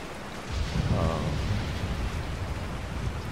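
Rain in the video game Resident Evil 4, a steady broadband hiss with a low rumble that swells briefly near the start and then holds even and moderately faint throughout.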